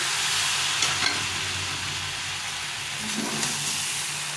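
Vegetables and tomato sauté for a Bengali fish curry, a steady close sizzle and hiss of the pan with a few light scrapes of stirring, no voices.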